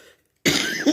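A single short, sharp cough after a brief moment of near silence, close and fairly loud.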